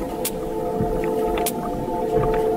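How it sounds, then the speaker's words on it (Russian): Sperm whale echolocation clicks picked up by an underwater hydrophone: a few sharp, sparse clicks stand out over a steady, droning ocean background hum, with no voices. "Итак, я слышу кашалота. Ровные щелчки."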